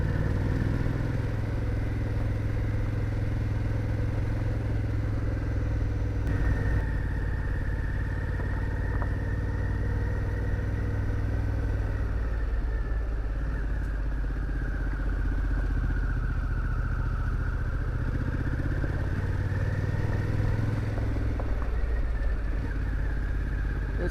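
A motorcycle engine on a forest road in Nantahala National Forest, heard as a steady, close, low rumble with mechanical clatter that rises and falls slightly with throttle through the whole stretch, with no talk over it.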